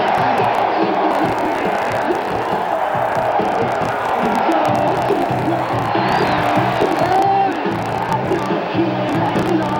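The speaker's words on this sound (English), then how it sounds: "they're getting out-cheered right now by the bulk of this crowd that cheering on the Calgary Stampeders" Large stadium crowd at a Calgary Stampeders CFL football game against the Edmonton Eskimos cheers steadily and loudly, a dense roar of voices with whoops and shouts running throughout.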